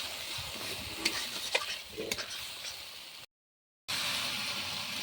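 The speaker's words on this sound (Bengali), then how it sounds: "সামান্য একটু জল দিয়ে আবার ভালোভাবে মশলাটা কষিয়ে নেব" A spice paste of Kashmiri chilli, coriander and cumin powders with a little water, stirred and fried in a pan with a soft sizzle and scraping, cut off by a brief silence before the sizzle returns.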